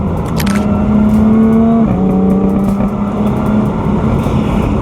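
A Jaguar F-type S sports car engine roars loudly and close, holding a steady, throaty drone with a sudden gear-change drop midway, then continuing at a slightly lower pitch.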